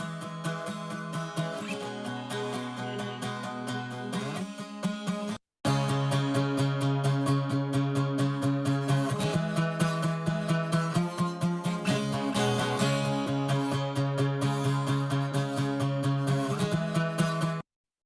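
Acoustic guitar in a drone tuning plays a full, strummed passage with sustained droning low notes under a busy rhythmic pattern, loud and close, briefly cutting out near the five-second mark before resuming without any speech.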